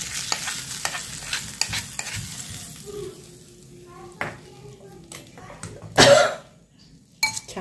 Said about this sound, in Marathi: छान मिक्स करून घ्या।